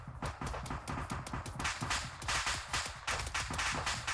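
Rapid gunfire from an Arma 3 combined-arms infantry battle, a steady stream of sharp shots and automatic bursts, fairly close and dense throughout, with no speech.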